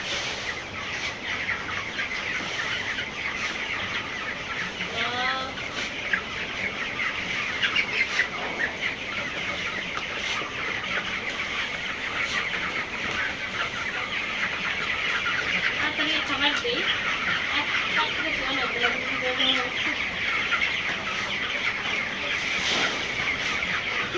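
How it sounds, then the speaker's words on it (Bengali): Farm chickens cluck and chirp as feed is handed out in a poultry shed, a busy flock chattering steadily at mid distance while someone talks over them. "খাবার দিতে দেখতেই মুরগিগুলো তাড়াতাড়ি করে আসছে"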